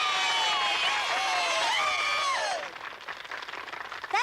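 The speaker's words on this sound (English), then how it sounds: "That's not the kind of cheering I like to hear." A cartoon crowd cheers and shouts together with many overlapping voices, loud and close. The voices thin toward the end into scattered noise, and a short louder burst closes the clip.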